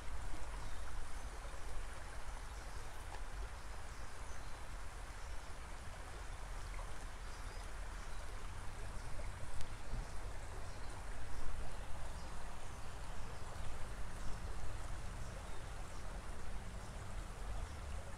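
Water in Los Alamitos Creek flows along a trail, a steady, soft, continuous rushing wash heard alone without voices.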